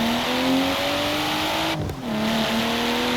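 Car engine in the racing game Forza Horizon 4, the Nissan R33 GTR sharing the BMW M2's sound, rising in a steady high rev with a brief dip at a gear shift before climbing again, loud and up close.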